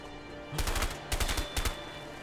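Gunfire in the video game A Way Out, three quick bursts of rapid shots, loud and close, separated by short pauses.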